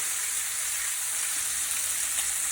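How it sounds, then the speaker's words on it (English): Porterhouse T-bone steak searing on a greased grill pan, giving a loud, steady, continuous sizzle with crackling fat throughout and no talking. "Get that searing real good."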